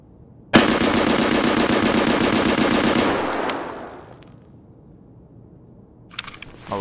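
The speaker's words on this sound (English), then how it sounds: "I'm now going to empty the magazine of the SKS." SKS semi-automatic rifle in the game Escape from Tarkov firing off its whole magazine: a loud, rapid, evenly spaced string of shots for about two and a half seconds, then ringing decay, with faint mechanical clicks near the end.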